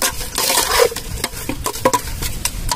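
A large spoon working through a fish stew cooked with sour cashew fruit, giving close, irregular scrapes and knocks against the pot over a low bubbling cook.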